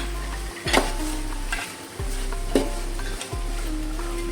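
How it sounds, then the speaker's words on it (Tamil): Chili powder stirred into tomatoes frying on high flame for mutton biryani: a continuous close sizzle punctuated by several sharp spoon scrapes and clanks against the pan. "ஆட் பண்ணி நல்லா தக்காளி கூடயே மிக்ஸ் ஆயிடுவாங்க"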